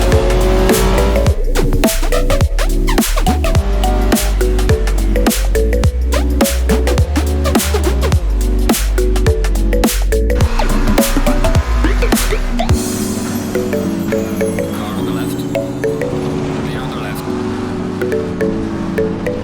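Race cars roaring loud and continuous in a sim racing game, engines revving and shifting with screeching tire squeals, played with load cell brake pedals.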